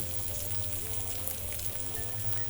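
Diced Jerusalem artichoke with fleur de sel, pepper and sesame seeds sizzles in a pan, a steady, close frying hiss throughout with a low hum beneath and no talk.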